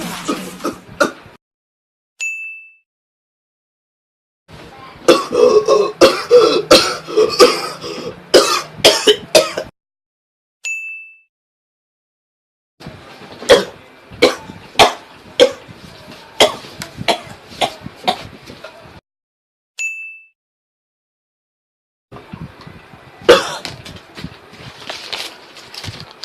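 A series of varied coughs and throat clearings in bursts separated by silences, some sharp single hacks, some rapid rough clusters, each type performed in turn by a close voice.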